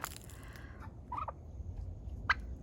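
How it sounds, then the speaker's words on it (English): Turkeys give a couple of short, faint gobbles at a distance in a farmyard after a freeze, separated by quiet background hiss. "We got our turkeys in here."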